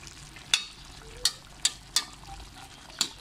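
Chicken and tomatoes fry in a karahi for chicken shinwari, with a steady low sizzle broken by five sharp, regularly spaced scrapes of the stirring spoon against the pan, close and fairly loud.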